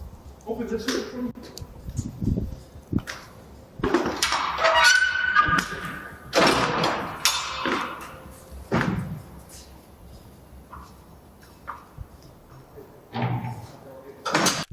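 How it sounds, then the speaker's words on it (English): Metal cargo doors on a truck are unlatched and swung open, with clanks, thumps and a scraping slam in uneven bursts, close by, while people talk around it. "the officers cut the lock off and opened the cargo doors"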